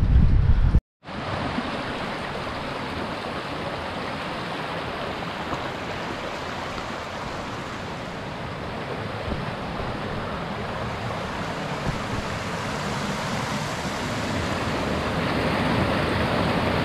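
Water rushes steadily through the underground Rivelin Tunnel, carried from Ladybower Reservoir, as a loud, continuous roaring flow after a brief cut near the start, swelling slightly toward the end with no voices.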